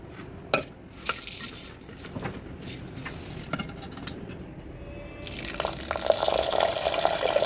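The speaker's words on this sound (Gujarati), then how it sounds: "હવે આપણે આ દાળને સારી રીતે 2 થી 3 વખત ધોઈ નાખશું." Mixed toor, urad, moong and chana dal being washed in a steel vessel: close clinks and scraping of metal with swishing, dripping water, building into steady running water near the end, with no talk.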